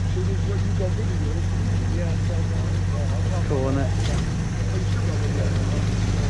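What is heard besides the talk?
GMC 100 pickup engine revving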